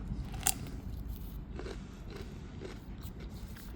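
A crisp crunchy bite into a fresh salad cucumber, one sharp crunch followed by quieter chewing crunches, close and otherwise quiet.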